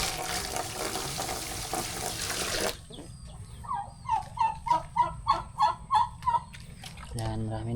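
Turkeys and chickens call at a rural yard: after a stretch of rushing water-like noise, a turkey gives a rhythmic run of about eight gobbling calls, with clucks and other fowl calls around it.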